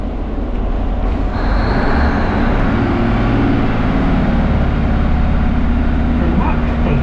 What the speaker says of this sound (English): now we can listen to the departure of my train here in Okehampton